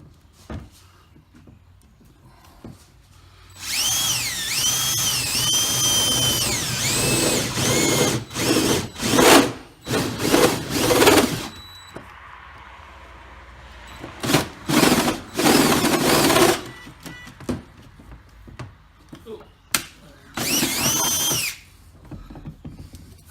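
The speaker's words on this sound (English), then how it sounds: "It's actually a countersink. But it works well. It's 3/4 inch diameter. It makes a nice clean hole through thinner aluminum for me." A 3/4 inch countersink bit bores through thin aluminum on a Minn Kota Deck Hand DH40 install, a loud power drill whining in several long bursts and shorter pulses with pauses between, close by and with no talk.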